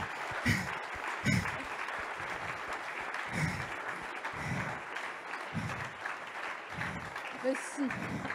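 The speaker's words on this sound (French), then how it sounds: "Il faut applaudir dans les applaudissements." An audience applauding at a gathering, the steady clapping running throughout with people talking over it and occasional louder claps.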